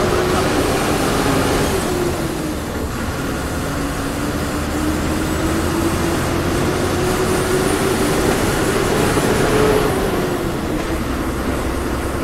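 A train running on an elevated track beside a moving MSRTC bus travelling from Indore to Amalner, a loud continuous rumble mixed with road and engine noise, with one steady tone that slowly rises and falls.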